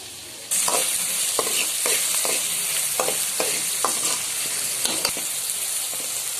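Tomatoes sautéing in a pan for tamarind kuzhambu, a steady close sizzle that starts abruptly, with repeated scraping stirs and utensil knocks against the pan.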